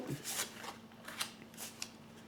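A card drawn from a Healing Whispers oracle deck, a few soft papery slides and light flicks near the start and middle, faint and close, with no one talking.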